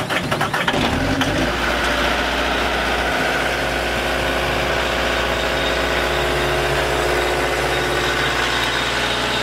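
A 2016 Caterpillar 246D skid loader, not plugged in, cold-starts on a roughly 35-degree day. The engine cranks and fires, sputters briefly, then settles into a loud, steady diesel idle heard close up with no talking.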